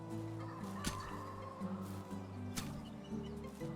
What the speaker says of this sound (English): sounds like the rooster crow is kind of echoing off of the rocks up on the hill behind me